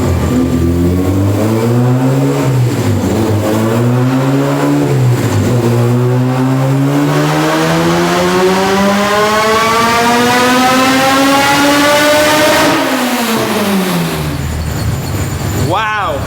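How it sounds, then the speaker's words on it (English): A supercharged K20A engine in a Honda Civic EG hatchback roars through a dyno pull, its pitch climbing steadily through the revs before the throttle cuts and the note drops and rattles off, loud and close. "All right, here we go, second hit."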